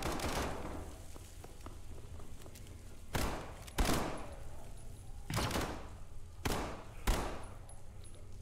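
Pistol shots in the zombie shooter game SCP: 5K, about five sharp loud cracks spaced irregularly over steady background game noise, no talking.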